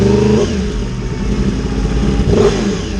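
Yamaha R1 sport motorcycle engine revving hard with a loud, close, growling exhaust roar that rises in pitch and surges again near the end, with no talk over it.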